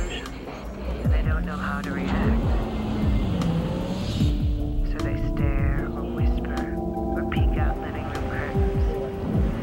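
A 315-horsepower all-wheel-drive Infiniti FX45 engine hums and revs in a TV commercial, with a throbbing drive-by sweep rising and falling amid whooshing effects and other sounds.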